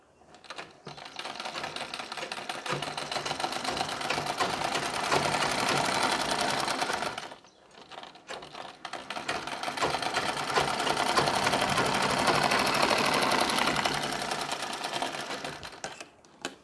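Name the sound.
sewing machine stitching a Nauvari saree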